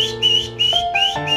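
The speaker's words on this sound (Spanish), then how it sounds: "El hombre sonrió y silbó." A man whistles a short, bright tune of several rising and falling notes, clear and close.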